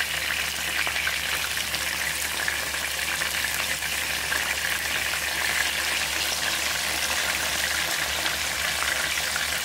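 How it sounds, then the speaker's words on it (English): Oxtail frying in a pan for Jamaican stewed oxtail gives a steady, loud, dense sizzle that carries on unbroken, close up and alone, with no talk over it. "Allow that to fry before we turn it."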